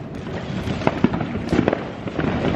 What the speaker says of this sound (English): I just want one cute little shot with the fireworks